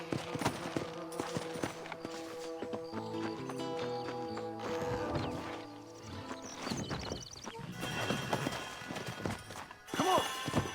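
Horse hooves clop in the Red Dead Redemption video game, a steady galloping rhythm mixed under game music and sound effects, with a voice talking now and then.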